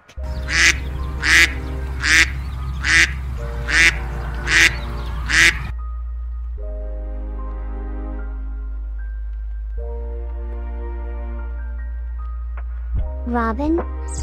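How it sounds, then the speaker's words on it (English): A duck quacks in a rapid series of about eight loud, nasal calls, then goes quiet under a low steady hum with faint tonal sounds, and a brief harsh call returns at the very end. "Duck."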